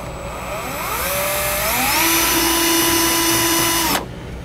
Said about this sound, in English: Now we'll come in here with a short drill bit, make a pilot hole.